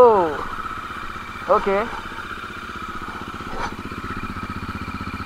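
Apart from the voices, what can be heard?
Bajaj Dominar motorcycle engine running after cold start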